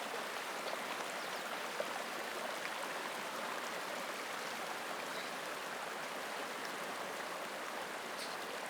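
Fast-flowing stream water in Wyoming's Wind River country, a steady broadband rush and babble that continues unbroken and fairly close.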